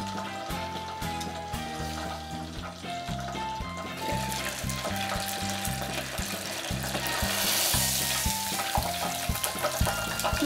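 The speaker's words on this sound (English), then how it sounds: "The water bubbles seem to be subsiding." Pig's feet frying in hot oil, a continuous bubbling sizzle that swells slightly louder toward the end, heard alone with no speech.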